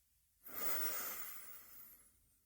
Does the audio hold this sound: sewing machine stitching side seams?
no